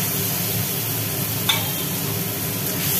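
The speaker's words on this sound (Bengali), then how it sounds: "এইবার ওর মধ্যে কোরানো পেঁপেগুলো দিয়ে দিল" Grated ripe papaya dropped into a pan of sizzling spice tempering, giving a loud, steady frying hiss close up, with one brief clatter partway through and no voices.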